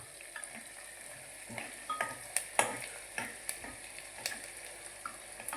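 Onions cooking in a pan for a potato-onion curry, a steady soft sizzle broken by irregular scraping and tapping as a spoon stirs through them, close and moderately quiet with no talk.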